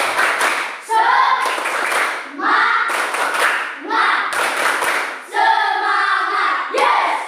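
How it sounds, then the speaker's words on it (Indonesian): A school class performs the rhythmic 'tepuk semangat' spirit clap together, sharp bursts of group clapping with short pauses between them, and children's voices chant along with the claps. "Tepuk semangat ya. Tepuk semangat."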